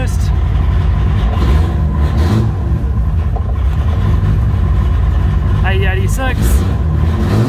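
A Toyota Supra Mark III sits running at idle with a steady, loud engine drone throughout, and a brief faint chirp near the end.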